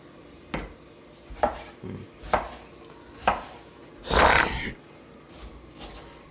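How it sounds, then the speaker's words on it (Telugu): A knife chops curry leaves on a board: about six distinct, sharp strikes at an uneven pace, one heavier and longer, each close and loud against a quiet background. "Now we'll chop the curry leaves."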